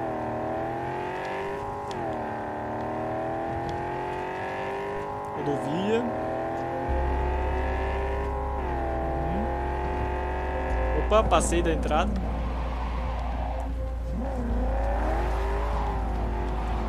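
Car engine from Cyberpunk 2077 drones steadily with rising and falling revs, a low rumble joining partway and a brief skid-like burst near the middle, under someone talking.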